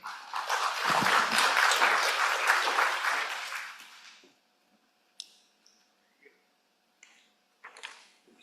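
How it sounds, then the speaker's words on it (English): Audience applause for a panel at a conference on including pregnant and breastfeeding women in clinical trials, a dense burst of clapping lasting about four seconds that fades out, followed by a few scattered clicks and small noises in a quiet room. "Please give a round of applause for our panel and welcome them"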